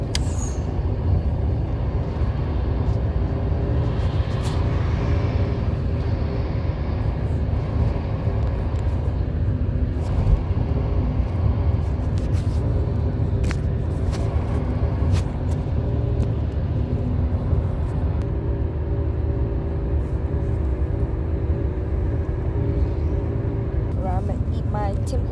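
Steady low road rumble and engine drone inside a moving car on the way to Kingston, with faint clicks and creaks over the continuous hum and no break in the noise.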